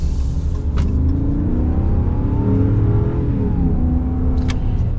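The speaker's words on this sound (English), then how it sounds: "we will be getting our acceleration here in just a second with this Power Wagon" A 2021 Ram Power Wagon pickup with a 6.4 Hemi V8 accelerates hard, a loud deep engine roar building steadily with rising pitch as gears change, heard from inside the cab with faint clicks.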